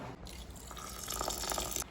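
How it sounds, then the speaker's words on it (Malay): A cup of water is poured into basmati rice that has been soaked for 30 minutes, giving a quiet, steady liquid fill and splash for about two seconds with no talking. "kita akan isikan air sebanyak 1 cawan"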